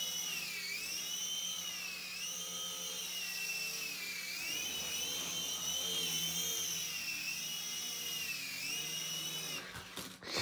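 A Sky Rover Vigilante RC toy helicopter flies nearby with a steady, high-pitched electric motor and rotor whine that wavers slightly in pitch as it moves, running continuously until a brief disturbance near the end.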